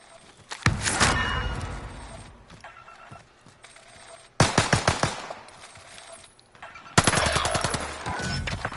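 Welgun fire in Call of Duty Warzone Plunder, loud close bursts of rapid automatic shots in three separate volleys with quieter gaps between them. No talking.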